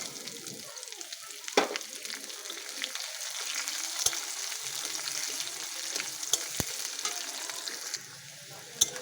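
Onion sizzles in hot oil with nigella seeds in a pan for rohu fish curry with potato and bori. The frying is faint and steady, with occasional sharp clicks of stirring and no talking.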